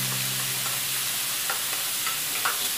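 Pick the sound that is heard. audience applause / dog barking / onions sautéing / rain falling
onions sautéing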